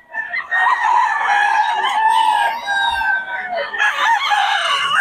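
Several roosters crowing loudly and close, their long calls overlapping one after another with hens clucking in between.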